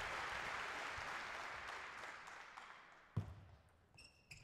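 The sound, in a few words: crowd applauding at table tennis match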